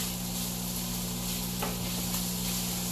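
Steady, dense sizzling of food frying in a pan for stovetop mac and cheese, a constant crackling hiss with a faint low hum underneath and a light clink midway.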